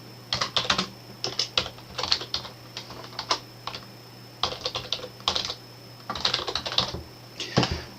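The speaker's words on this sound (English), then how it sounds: "So we type in your email address in here." Keys clatter on a computer keyboard as an email address is typed, in quick bursts of close, crisp clicks separated by short pauses over a faint steady hum.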